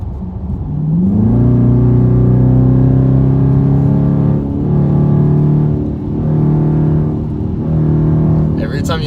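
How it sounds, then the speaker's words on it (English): A 2018 Dodge Charger RT Super Track Pak in sport mode revs up as the gas is pressed, then holds a loud, close engine drone that swells and eases in several waves as the throttle goes on and off. "Every time you hear it go like that, it's me taking my foot on and off the gas."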